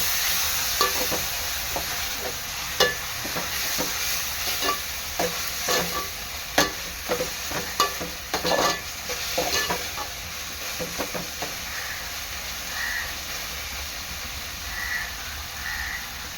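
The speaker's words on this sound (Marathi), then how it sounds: "यामध्ये टाकणार आहे अद्रक लसूण मिरची कोथिंबीरची पेस्ट पेस्ट चांगली मिक्स करून घ्यायचं आहे" Ginger, garlic, chili and coriander paste stirred into browned onions for an Agri Koli style chicken curry, with a steady frying sizzle and repeated clear scraping clicks of a spoon against the pan, no talking.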